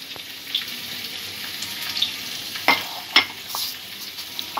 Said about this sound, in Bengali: যতক্ষণ আলু আর পটলটা ভাজা হচ্ছে